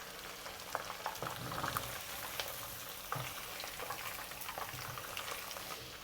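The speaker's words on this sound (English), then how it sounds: "We just need to fry for a while until the color is like this." Beef fries in hot oil for ginger beef with a continuous, fairly soft bubbling sizzle and occasional stirring clinks, and no voices are heard.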